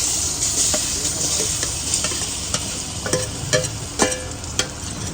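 Cut raw mango hits hot oil with asafoetida in a pan, a steady bright sizzle with scattered spatter pops and a few clinks of a spoon stirring, close and continuous with no talk.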